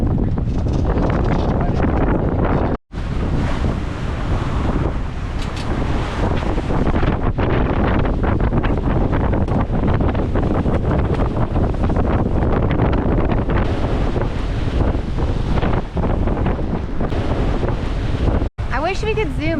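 Strong wind of around 20 mph, gusting into the 30s, roars across a sailboat under a double-reefed mainsail: continuous loud wind buffeting on the microphone mixed with rushing water and a couple of brief dropouts.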